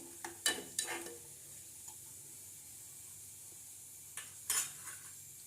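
Jaggery being stirred with water in a pan as it melts, a few soft scraping and clinking strokes of a spoon against metal, close by, in two short bursts separated by a quiet stretch.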